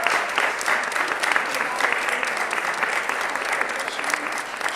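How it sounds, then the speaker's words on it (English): Steady, dense applause from an audience at a city and law enforcement press event, with clapping sustained evenly throughout and no talk over it. "would you give her a round of applause?"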